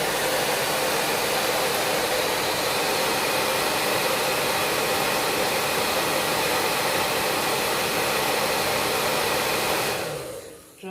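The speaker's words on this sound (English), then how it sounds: "Then I take my heat gun" A heat gun blows hot air to dry paint on a journal cover, a steady, close hiss-roar that holds constant for about ten seconds before cutting off.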